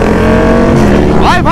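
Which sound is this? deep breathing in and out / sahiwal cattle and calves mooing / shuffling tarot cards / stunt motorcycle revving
stunt motorcycle revving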